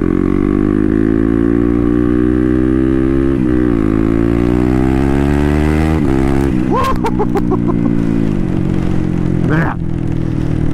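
A turbocharged Honda Grom with a swapped-in CBR engine drones loudly and steadily while ridden, its pitch slowly climbing under acceleration, with brief shifts and sharp mechanical chirps near the end.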